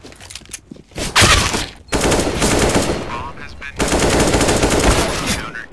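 Rapid gunfire bursts in a first-person shooter video game, with loud sustained automatic volleys broken by short pauses, close and dominant.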